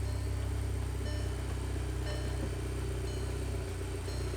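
A car idles steadily with a newly installed ECS Stage 2 clutch engaged in gear, its low, even engine hum continuous and close, with no revving and no talk.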